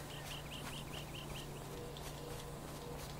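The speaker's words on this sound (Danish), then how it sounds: "Det var sådan en fuglesang." Repeated short bird chirps from GTA V game ambience, a run of similar calls in the first second and a half over a steady low hum and background noise, moderately faint.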